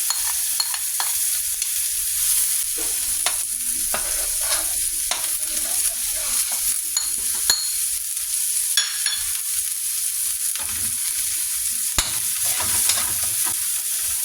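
Garlic and onion sautéing in a pan for shrimp sinigang, a steady crackling sizzle with scattered stirring clicks and scrapes throughout, close and fairly loud, with no voices.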